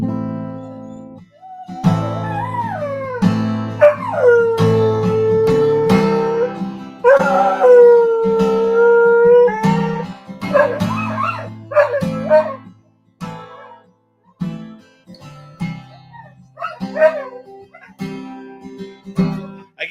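A dog howls along with a guitar playing in A minor, long rising and wavering howls over strummed chords, pausing and resuming across the stretch.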